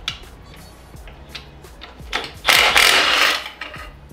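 A power tool, likely an impact wrench, removing bolts while tearing down a blown 1.8 turbo engine from a Miata, heard as short ratcheting clicks and bursts, rising to a louder sustained whir near the middle before tapering off.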